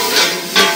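Vegetables frying in a pan with soy sauce and vinegar just added, a loud, close, steady sizzle with two brief surges of hiss.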